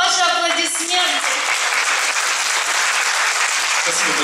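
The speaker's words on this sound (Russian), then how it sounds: "Ваши аплодисменты." A seminar audience applauds a landscape design speaker just introduced on stage, dense sustained clapping filling the room, with a voice speaking over the start.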